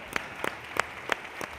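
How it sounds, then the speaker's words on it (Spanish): A few hands clap to welcome a speaker at a talk on gastronomic tourism: five sparse, distinct claps at a slow irregular pace, quiet and somewhat distant, with no talk over them. "Le recibimos con un aplauso"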